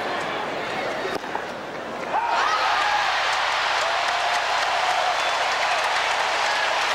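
Crowd applause breaks out at a tennis match between Agassi and Sampras after a point on Sampras's serve, rising suddenly to a loud, sustained wash of clapping and cheering that carries on steadily.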